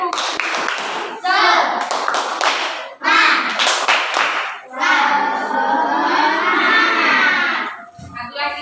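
A school class does the rhythmic tepuk semangat spirit clap, bursts of patterned hand claps alternating with children's voices chanting in unison, loud and close in a classroom.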